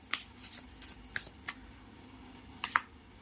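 Tarot cards are shuffled and drawn, giving quiet, scattered flicks and riffles with a few sharper snaps among soft handling sounds, close and faint.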